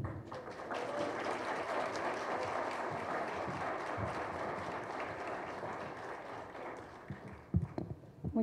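Sustained applause from an audience at a notaries' college lecture in a conference hall, steady dense clapping throughout, thinning into a few scattered claps and noises near the end.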